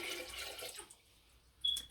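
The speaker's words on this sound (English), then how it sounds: "I would then dump their urine into the toilet." Urine tipped from a plastic measuring container into a toilet gives a brief, faint watery splash and trickle, followed by a short sharp clink near the end.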